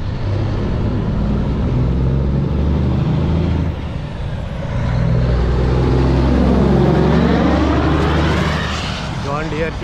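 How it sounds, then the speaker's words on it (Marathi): A John Deere vehicle drives past on a road in Lockport, Illinois, with a loud, close engine roar and rumble that swells and fades as it goes by, over continuous traffic noise. "जॉन डिअरची गाडी गेली."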